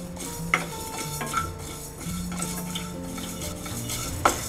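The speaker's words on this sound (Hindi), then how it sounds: "कढ़ाई में एक बड़ा चम्मच साबुत धनिया डालेंगे, एक छोटी चम्मच जीरा, एक चौथाई चम्मच मेथी दाना। इसे हम लगातार चलाते हुए एक मिनट तक भूनेंगे।" Whole coriander seeds, cumin and fenugreek dry-roast in a kadai under constant stirring with a spoon, producing continuous scraping and rattling with a few sharper metallic clinks, steady and close.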